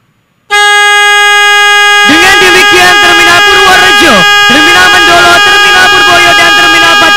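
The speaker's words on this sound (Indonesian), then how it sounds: "Selanjutnya dimohon berkenan Bapak Presiden melakukan penekanan tombol klakson" Vehicle horn pressed by the president at a bus terminal inauguration, a loud sustained blast starting abruptly after a short silence, with a crowd's babble rising beneath it partway through.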